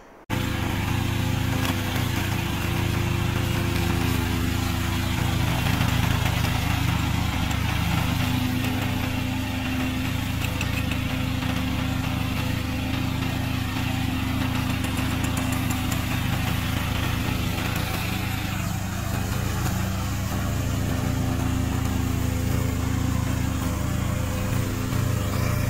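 A remote control lawn mower runs steadily, a constant engine drone with a buzzing higher whine layered over it that holds unchanged from start to finish, with no voices.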